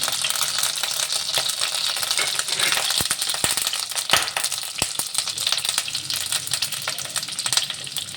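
Green chilli halves and finely chopped ginger sizzle steadily in a hot pan, with a constant bright frying hiss and occasional sharp pops and spits, close and loud.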